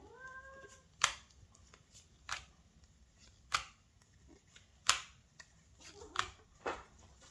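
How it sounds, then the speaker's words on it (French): A cat meows once near the start, then a series of sharp, sparse clicks and taps follows in a quiet room. "C'est mon chat qui revient."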